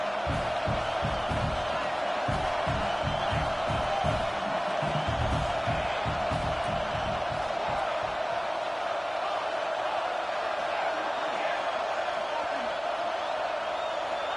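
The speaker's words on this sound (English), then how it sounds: "Home crowd trying to make a difference on 4th down." A home stadium crowd roars on a fourth down at a college football game against Oklahoma, a dense, sustained wall of distant cheering with rhythmic thumping early on that fades toward the end.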